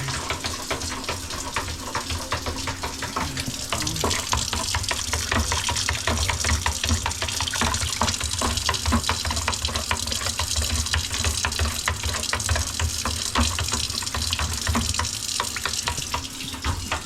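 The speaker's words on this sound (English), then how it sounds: "Let me rinse off my spoon." Water running steadily from a kitchen tap to rinse a spoon, a continuous close splashing gush into the sink that lasts throughout without talk.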